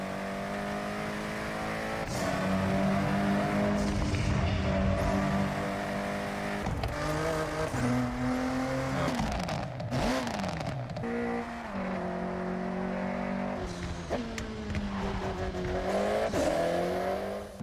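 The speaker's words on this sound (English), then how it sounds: "Our cars sound better than ever, with greater detail and remastered audio, all brought to life by new acoustic modeling technology" Racing car engines from a Forza Horizon game trailer, loud revving and shifting engines that rise and drop in pitch through repeated gear changes, with brief tire squeals and car pass-bys, no talking.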